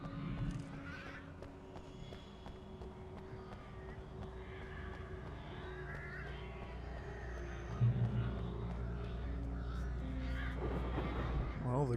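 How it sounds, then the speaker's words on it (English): Crows caw in the Alan Wake game over a low rumbling background drone, with the calls faint and scattered through the stretch. "I hear the birds."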